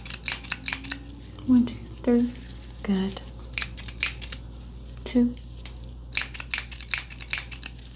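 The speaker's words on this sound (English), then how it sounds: "Now I am going to use my little mini stapler here to make a sound" Small mini stapler clicking in a quiet room, a series of sharp, close snapping clicks in irregular bursts, with a soft voice speaking briefly between them.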